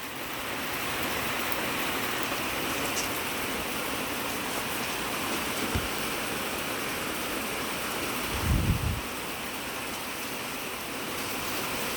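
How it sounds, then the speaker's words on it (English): A steady burst of rain falls outdoors in a fig garden, a dense even hiss of drops with a couple of soft low thuds, moderately quiet and continuous with no talk. "Thought I'd come out in this burst of rain."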